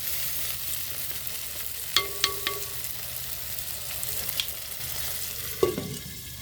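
Shrimp being stir-fried in a pan before spinach goes in make a steady, moderate sizzle, with a few sharp clinks and scrapes of the utensil against the pan and no voices.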